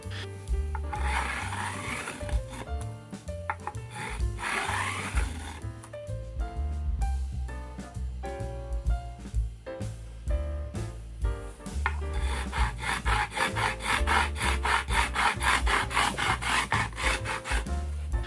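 Rhythmic rasping strokes of a 45-degree sanding block filing the fret ends of a Harley Benton ST-20 electric guitar, continuing steadily throughout with background music playing underneath.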